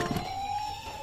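A toy fire truck siren sounds as a steady, fairly faint electronic wail holding one pitch through the short moment, with no talk over it.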